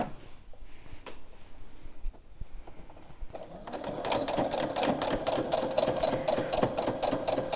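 Sewing machine stitching fabric for a memory bear starts after a few quiet seconds of handling, then runs steadily with a fast, rhythmic needle chatter, close and fairly loud.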